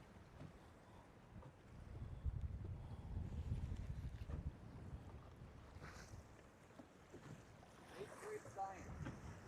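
Strong wind buffets a fishing boat out on the water as a low, rumbling roar that swells and fades, with faint voices in the background.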